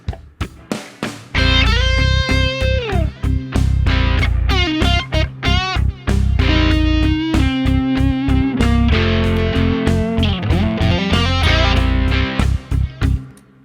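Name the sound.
guitar delay creating reverb effect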